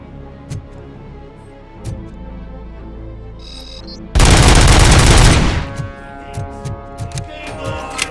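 Gunfire in the video game RoboCop: Rogue City, with a loud sustained burst of rapid automatic fire lasting about a second, set between scattered clicks and lighter scattered shots.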